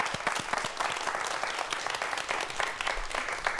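Audience applause in a lecture hall, a dense, steady patter of many hands clapping for the whole stretch, fairly close and unbroken.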